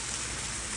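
Steady, dense hiss of rain falling, constant and unbroken throughout, with no voices.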